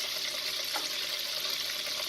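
Frank's RedHot sauce poured into a bowl of melted butter for low-carb wings, a steady, close liquid pour that runs unbroken for about two seconds with no talking.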